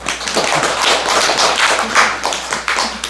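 A temple audience at a Buddhist dharma talk claps together, a dense run of brisk, overlapping hand claps that stays loud and even throughout.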